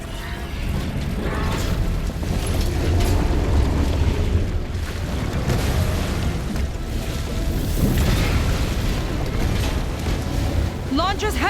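A heavy mechanical rumble and booming blast as a heat sink is blown up in the video game Horizon Forbidden West, loud and sustained with churning water-like noise throughout.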